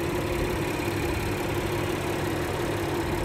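A 2017 Honda Ridgeline AWD with its 3.5-liter V6 sits idling, a steady, even hum with a faint low drone and no variation in pitch or loudness.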